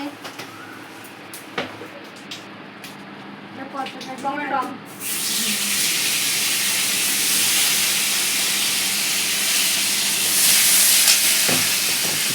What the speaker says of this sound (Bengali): তার বদলে দিচ্ছে কি এটা কালো জিরে, কালো জিরে দিচ্ছে